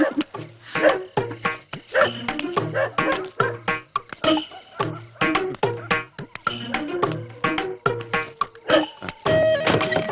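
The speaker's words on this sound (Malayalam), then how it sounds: "പക്ഷെ ഇന്നെന്താണെന്ന് അറിയില്ല പട്ടികളുടെ ബഹളം" Several dogs bark in a busy, overlapping chorus, with sharp yips and woofs repeating steadily throughout, fairly close and loud.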